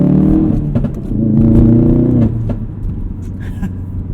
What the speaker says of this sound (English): You stand behind the car during launch control, and it hurts your ears. It's loud.